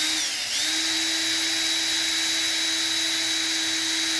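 A power drill spins a wooden dowel that stripping fishing line off a reel, giving a steady, loud high-pitched whine that starts at once and holds evenly, with no talk over it.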